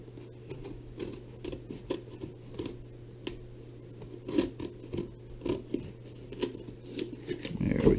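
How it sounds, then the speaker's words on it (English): Blade cutting through the seal tape on a cardboard subscription box of FPV drone parts, a series of soft scratchy slicing ticks over a low steady hum, close but quiet. "So we'll cut the seal."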